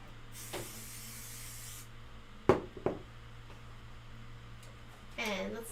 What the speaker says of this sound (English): I'm going to give it a little shot of spray to the back.